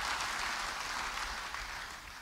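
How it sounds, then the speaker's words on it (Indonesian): Church congregation applause, a sustained even patter of many hands clapping that slowly fades toward the end. "Semua beri tepuk tangan bagi dia."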